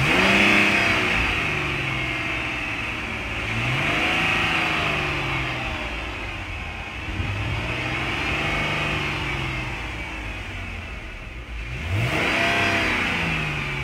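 A Dodge Challenger engine revs gently in repeated rising and falling swells, close by and steady, with no voices.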